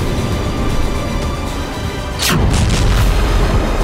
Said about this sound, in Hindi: यूक्रेन का ये टैंक आगे बढ़ रहा था, तभी अचानक धमाका हुआ